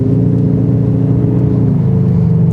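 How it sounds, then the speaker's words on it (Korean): A Ford Mustang coupe exhaust close up as it accelerates, a loud, deep, steady engine rumble with a low throbbing note that shifts slightly in pitch, with no talking. "악셀에 따라서 배기음도 변화를 하고요."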